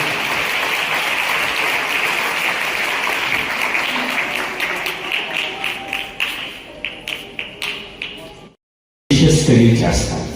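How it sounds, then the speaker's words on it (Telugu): Crowd applause for a minister at a Christmas celebration in a church in Nandyal, steady clapping that thins into scattered claps and cuts off, with talk underneath. "మరొకసారి గట్టిగా చప్పట్లు కొట్టాలి"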